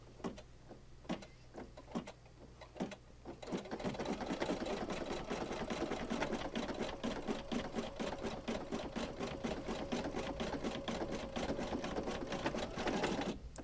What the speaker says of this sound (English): So that's just a basting stitch.